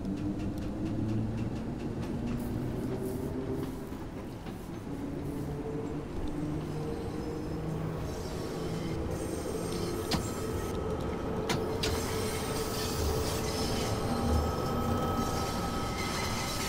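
A London Underground Bakerloo Line train runs in the game Train Sim World 2, producing a steady rumbling rolling drone with low motor tones and occasional clicks and clanks, continuous and moderately loud throughout.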